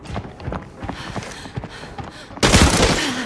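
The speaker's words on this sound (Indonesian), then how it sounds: "Tapi ada tembakan tadi." Video game gunfire sounds as a series of sharp, spaced shots, followed by a sudden louder burst of noisy action near the end.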